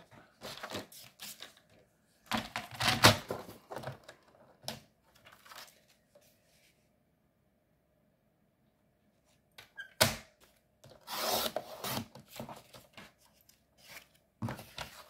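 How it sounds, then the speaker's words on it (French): A paper trimmer slices through a sheet to cut a 21 by 21 square, giving a few sharp, close cutting bursts with quiet pauses between them and no talking. "Je vais prendre mon massicot et je vais couper un carré de 21 sur 21."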